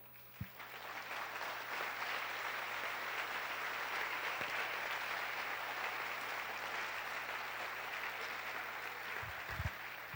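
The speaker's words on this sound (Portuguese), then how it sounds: "Forte aplauso ao Senhor" A church congregation claps together in steady, sustained applause filling the room for about ten seconds, with a low electrical hum underneath and a few sharper claps near the end.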